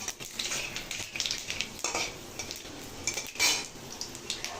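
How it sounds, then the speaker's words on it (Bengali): Dried red chillies and panch phoron sizzle in oil while a metal spoon repeatedly scrapes and clinks against the pan, with a quiet crackle underneath. "শুকনো লঙ্কা আর এই যে একটু পাঁচ ফোড়ন দিয়ে দিলাম"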